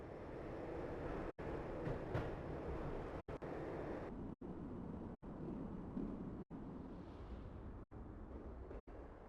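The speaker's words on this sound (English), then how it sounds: "When the train he was riding slowed down" A train slowing down in the video game Max Payne, with a dense rumbling rattle of rail wagons broken by several abrupt short cuts of silence.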